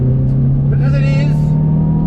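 Hyundai i20 N hot hatch engine revving hard on a wet track, a steady droning engine note under someone talking throughout.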